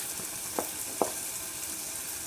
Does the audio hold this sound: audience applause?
no